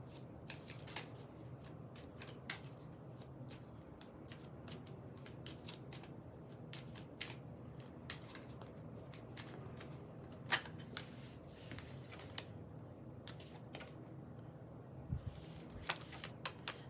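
Tarot cards are shuffled by hand in quick crisp riffles and flicks, a scattered run of soft close snaps over a quiet room hum for most of the stretch.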